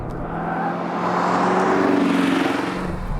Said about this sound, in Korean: 자, 엔진 소리 들리시나요?